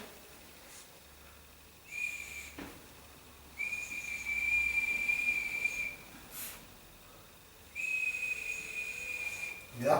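An ancient Turdetanian clay whistle is blown in three separate steady, high, breathy tones of about two seconds each, with quiet pauses and room noise between them.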